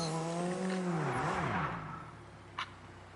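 In the PS5 game Destruction AllStars, a car brakes hard and its tires skid with a falling whine, loud at first and then fading, with a short sharp knock near the end.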